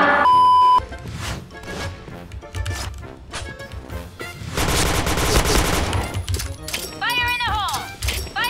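Gunfire and electronic beeps from the video game Point Blank come in scattered bursts and a denser volley in the middle, with people talking over the game sounds.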